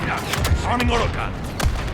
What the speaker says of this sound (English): Arming autogun.